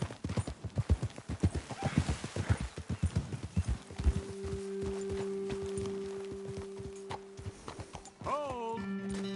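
Horses walk in the Red Dead Redemption 2 video game with steady, close clip-clopping hooves in a regular rhythm that slows and fades, while a horse whinnies or snorts and a low tone hums beneath.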